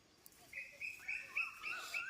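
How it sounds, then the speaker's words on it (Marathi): Faint birds chirp and whistle in a few short, high calls from village trees at midday, thin and somewhat distant against a quiet background. "पक्ष्यांचा आवाज बघा"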